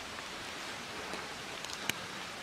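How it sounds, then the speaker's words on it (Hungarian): Pouring rain falls at the My Son ruins in Vietnam as an even, steady hiss. One sharp tap stands out near the end. "Ömlik az eső."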